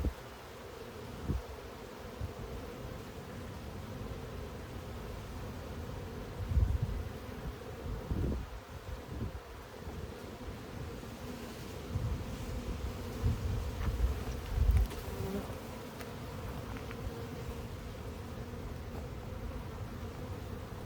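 Honeybees hum and buzz in a steady, close swarm during a hive inspection, with occasional soft knocks and handling sounds from the frames.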